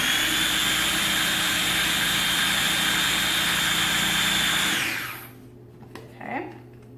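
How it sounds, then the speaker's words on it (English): A kitchen blender whirs loudly and steadily while blending a dressing for a beet, goat cheese and heirloom panzanella salad, then winds down near the end, followed by a few faint handling clinks. "We're going to listen to this lovely blending noise"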